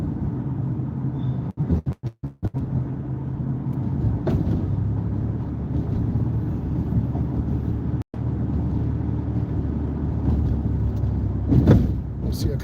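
A car drives along a road, giving a steady close engine and tyre rumble throughout, broken by a few brief knocks and clicks, with no talking.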